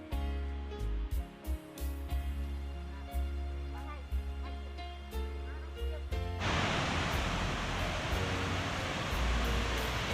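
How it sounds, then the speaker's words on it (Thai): Kuang Si waterfall near Luang Prabang thunders in with a sudden, dense, close rush of falling water that takes over after several seconds of music and continues steadily to the end. "จุดชมวิวบนน้ำตกกวงซี"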